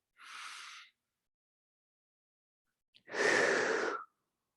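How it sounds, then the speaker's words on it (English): Two slow breaths taken during a Pilates lat stretch, a soft airy inhale followed after a pause by a longer, fuller exhale, close and quiet with no talking. "breathing in and out"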